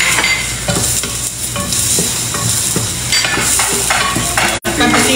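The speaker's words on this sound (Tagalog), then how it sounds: "Gigisa ako na yung caldereta mo, mga pulutan." Kaldereta sautés in a pan, with a loud, continuous sizzle and frying crackle, punctuated by repeated scraping stirs of a utensil against the pan.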